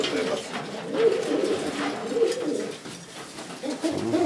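Pigeons in a breeder's loft coo repeatedly in low, rolling phrases, close and fairly loud, with faint room noise and soft voices in the background.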